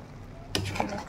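Pork humba simmering with pepper, salt and banana blossom is stirred in a pan, a soft scraping stir and faint sizzle rising after a quiet moment, close and brief.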